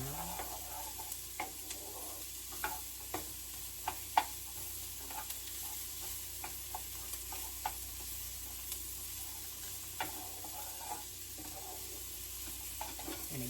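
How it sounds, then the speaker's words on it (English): Bacon and onion sautéing in a pan for a Christmas dinner, a steady soft sizzle with scattered sharp clicks and scrapes of stirring throughout, fairly quiet and with no talking. "we're just sauteing the bacon and the onion around"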